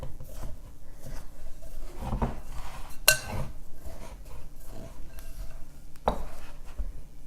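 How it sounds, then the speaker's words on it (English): Scone dough for cinnamon roll scones being mixed in a bowl, a utensil scraping flour off the bottom with soft repeated scrapes and a few sharp clinks against the bowl, close and alone. "We're just going to get in there and get all the flour off the bottom, or as much as you can."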